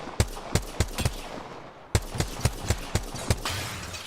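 Rapid automatic gunfire from Apex Legends: a dozen or so sharp, loud shots fired in two even, steady bursts with a brief pause between them, no voices.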